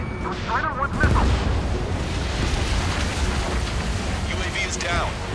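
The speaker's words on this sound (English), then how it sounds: "Target hit. Direct hit. It was Strider 1's missile." A missile strikes a UAV in the Ace Combat 7 flight game, a heavy boom bursting out near the start and rumbling on beneath dense jet and combat noise, with radio voices chattering over it.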